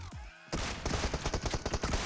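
Rapid automatic gunfire from BGMI (PUBG Mobile) gameplay, a loud close burst of repeated sharp shots in quick rhythm after a brief lead-in sound.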